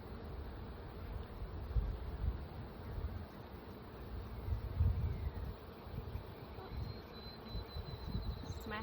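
Honeybees humming steadily at an open hive during a spring inspection, a dense continuous buzz close by with faint rustling and no talk.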